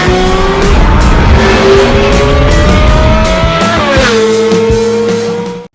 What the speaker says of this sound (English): Driving a Lamborghini Miura.